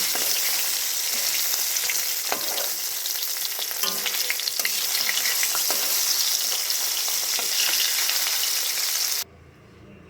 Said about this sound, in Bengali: ঢাকা চাপা খুলে আবার গ্যাসের আঁচটা কমিয়ে মাছগুলোকে উল্টে পাল্টে ভেজে নিচ্ছি